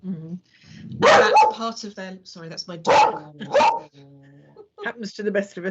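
A pet dog indoors barks several times in short bursts, loud and close, mixed with a person speaking over and between the barks.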